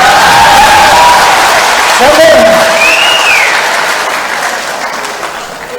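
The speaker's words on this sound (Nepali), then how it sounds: "एकपल्ट ताली बजाउनुहोस् न, खुसीको कुरा हो।" An audience applauds at a speech during a new-house handover ceremony, loud continuous clapping from a crowd that slowly fades, with a whistling tone sweeping through it.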